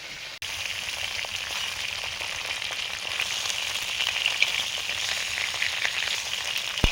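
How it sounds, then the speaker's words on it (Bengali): Prawns fry in a little oil in an iron wok, giving a continuous crackling sizzle, close and steady, with a few light clicks and no talking. "চিংড়ি মাছগুলো ভাজছি"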